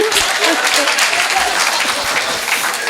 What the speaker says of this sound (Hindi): ताली बजाओ भाभी जी के लिए।